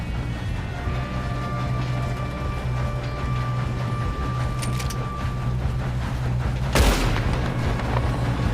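Gunfire in the Red Dead Redemption video game during a train shootout: a single sharp shot cracks out late, over a steady low mechanical rumble and hum, with no voices.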